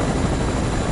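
A helicopter in the Fortnite video game flies steadily, its loud, continuous rotor and engine drone holding at an even level throughout the short moment with no talk.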